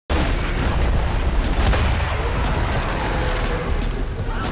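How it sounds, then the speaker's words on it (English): A violent explosion inside a hospital, set off by leaking gas, roars as a loud, sustained blast with rumbling low end and debris-like crackle that fills the whole stretch before easing slightly. "The violent explosion shocked the entire hospital."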